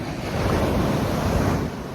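Ocean waves breaking on a beach in Mexico, a steady, continuous roar of surf close by with wind noise buffeting the microphone, no voices.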